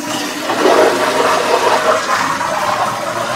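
A toilet flushes in one continuous rushing, gurgling swirl of water, loud and close, with no talking.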